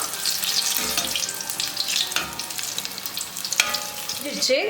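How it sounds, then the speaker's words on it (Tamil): Spinach bonda batter drops into hot oil and fries with a close, steady crackling sizzle, punctuated by a few sharper pops and light utensil movement. "இப்போ நம்ம கலக்கி வச்சிருந்த பேட்டரை இப்போ நம்ம என்ன எண்ணெயில் விட்டுடலாம்"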